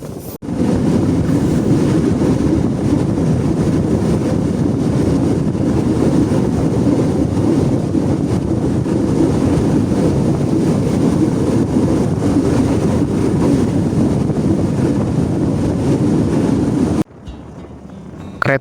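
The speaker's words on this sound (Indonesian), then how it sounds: "Deru mesin lokomotif semakin menderu, menandakan kereta semakin cepat berjalan meninggalkan stasiun Alas II." The Banyu Biru passenger train's locomotive engine roars as it gathers speed out of a station, a loud, continuous rumbling drone with wind-like rush that cuts off abruptly near the end.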